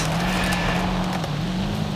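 A 1,000-horsepower rally car in Forza Horizon 5 drones steadily under load, its engine note holding a fairly even pitch with a slight waver, close and fairly loud throughout.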